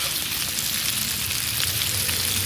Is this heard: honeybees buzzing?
no